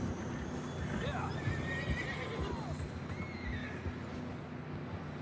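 Horses neigh and whinny several times over the rhythmic clip-clop of galloping hooves in the Red Dead Redemption 2 video game, set against a constant background rumble.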